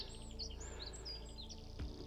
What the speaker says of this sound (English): Here, wren, greenfinches.